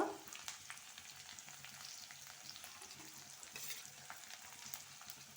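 Ginger and curry leaves sizzle and crackle in hot oil in a pan while cooking khara pongal, a steady, faint frying hiss with scattered pops throughout, no voices.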